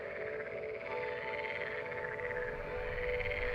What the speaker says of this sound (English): The frogs would just go into this beautiful symphony, chirping at each other.